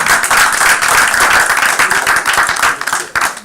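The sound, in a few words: applause for the elders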